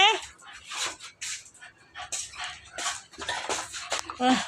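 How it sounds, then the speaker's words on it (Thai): Dog panting hard after a fight with another dog at home: rapid, rhythmic breaths close by, with whimpers and yips mixed in and a person talking over them. "นั่นหอบดู"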